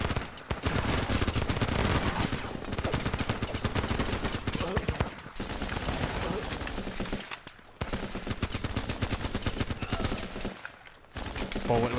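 Rifle gunfire fills a Running With Rifles battle on Bootleg Islands: dense, near, almost continuous automatic bursts and single shots overlapping, loud throughout with a few brief pauses, and a voice talking underneath.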